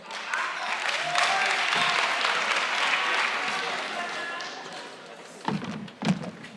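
Applause at an ANC Youth League North West provincial general council, a broad wash of clapping from a large crowd that fades, followed by a few thumps and a voice.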